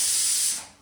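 A home kitchen pressure cooker lets off steam through its whistle in one short, loud, close hiss that tapers off quickly.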